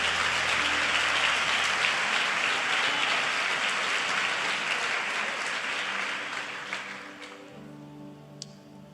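A church congregation at an Easter service applauds in a loud, dense, rain-like roar that holds steady, then gradually fades away over several seconds.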